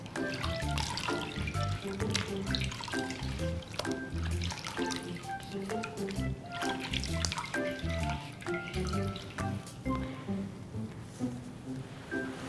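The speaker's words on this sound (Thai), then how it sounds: "นวดที่ศีรษะน้องเบา ๆ หลังจากนั้นล้างออกด้วยน้ำสะอาด" Clean water pours and splashes continuously while rinsing shampoo from a newborn baby's head during a bath, with bright dripping and trickling close by that thins out toward the end.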